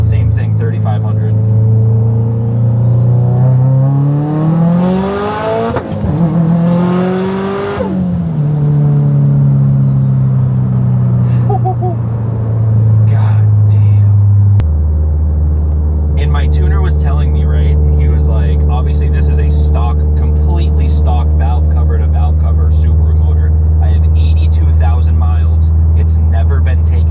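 Subaru STI with a stock engine and a rotated GTX3582R turbo kit, revving up and down through loud rising and falling sweeps, then holding a steady high-rpm drone close by.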